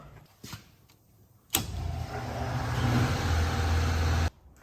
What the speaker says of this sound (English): So I just use a 1/4 inch air Dremel to clean up the hole.